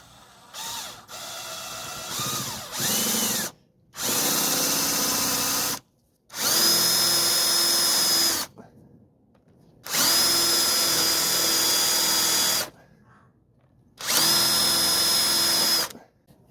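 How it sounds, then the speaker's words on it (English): A power drill bores a roughly 9 mm hole into a clamped carburetor-stand part in four or five loud sustained bursts of whining, grinding spin, separated by short quiet pauses, preceded by a few quick ratcheting clicks. "and then bore a hole in there, about 9mm on down in there."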